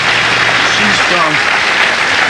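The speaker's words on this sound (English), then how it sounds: "a big, warm round of Australian applause for Miss Christine Nicholtanis" Studio audience applause for a contestant on a 1988 Australian television show, a dense wash of clapping under a host's talk, loud and sustained from start to end.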